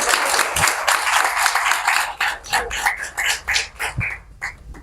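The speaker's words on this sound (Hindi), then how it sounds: "तालियां जोर से होनी चाहिए।" An audience at a rural literary gathering claps loudly to welcome a poet to the stage; the dense, close applause thins after a couple of seconds into uneven, scattered claps that tail off.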